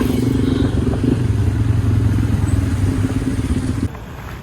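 A motorbike ridden along a road in Malaysia, its engine droning steadily and close throughout, with a sudden shift in tone near the end.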